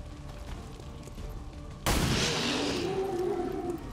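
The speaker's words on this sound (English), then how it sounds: "Just take that pistol shot, will you?" A single loud pistol shot cracks out in XCOM 2 partway through, a sudden sharp report that trails off into a decaying echo over quiet ambience.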